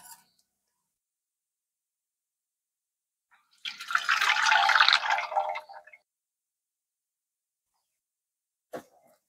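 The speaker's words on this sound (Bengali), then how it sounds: "মাংসর গ্রেভিটা আছে, এই গ্রেভিটা সবার আমি প্রথমে নিচে দিব।" Chicken meat gravy poured into a pot as the bottom layer for chicken biryani, a wet glugging splash lasting about two seconds, followed by a single faint clink.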